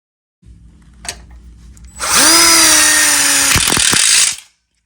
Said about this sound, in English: See how he screws nice and close to the end here, getting the coupler.